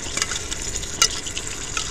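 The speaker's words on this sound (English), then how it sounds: "Just going to heat it up in my iron skillet." Store-bought roast beef warming in a Lodge cast iron skillet, making a low, even sizzle with a few light scrapes and one sharper crackle midway, close and brief, with no speech.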